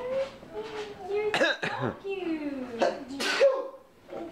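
A voice talks and chatters, broken by a couple of short, sharp sneeze-like bursts partway through.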